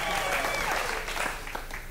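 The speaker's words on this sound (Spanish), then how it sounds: "Aplauso para el equipo de Puerto Rico" A live audience bursts into steady, dense applause for the Puerto Rico team, the clapping loud and sustained throughout with a voice faintly audible beneath it.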